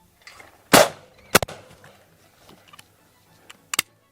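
A gun fires three sharp, loud shots: two close together early on, then a brief quiet stretch with faint handling noise, and a final shot near the end.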